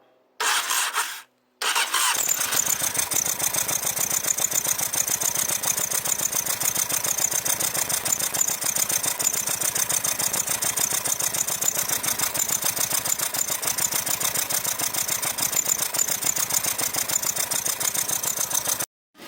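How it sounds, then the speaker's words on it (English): A 20-year-old Honda CBF 600 motorcycle engine briefly cranks, catches and then settles into a loud, steady idle that runs close to the microphone. "The bike might start, and it might sound a bit weird"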